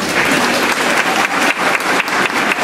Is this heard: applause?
yes